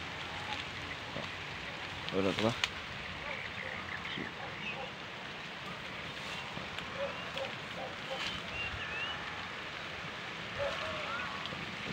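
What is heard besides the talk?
rain falling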